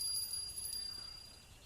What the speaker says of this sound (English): Why are you ringing a bell?